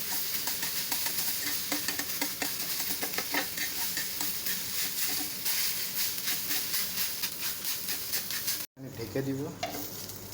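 Egg with onions frying in a pan over lowered heat, a close, steady sizzle and hiss with small pops, briefly interrupted near the end as someone speaks a few words.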